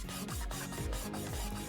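Resin dice being sanded by hand, a steady scraping rasp that rises and falls in repeated strokes, close and continuous with no talking.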